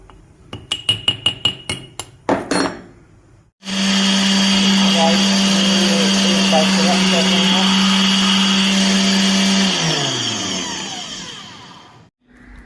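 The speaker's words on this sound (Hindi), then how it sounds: "फिर इसे जो है ब्लेंडर करूँगी" A kitchen blender grinds homemade garam masala spices, starting with a few short knocking pulses before running as one loud, steady whirring grind for several seconds, then winding down and stopping.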